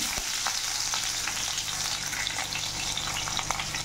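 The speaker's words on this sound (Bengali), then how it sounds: "এগুলোকে ভালো করে ভেজে নেব।" Chopped onions and green chillies frying in oil for a fish-head ghonto, a dense, loud, continuous sizzle with faint crackles and no voices.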